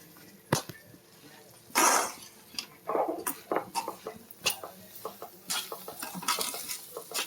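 A coconut and jaggery laddu mixture is stirred in a pan on the stove, giving repeated scraping strokes and clinks of a spoon against metal with a faint sizzle, close and fairly loud, with no talk.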